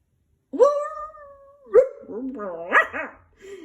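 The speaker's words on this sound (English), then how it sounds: "Beside the bog stood a dog who was howling." A narrator reading a children's picture story voices a dog's howl: a long, drawn-out rising wail, then shorter yelping and whining tones, loud and close.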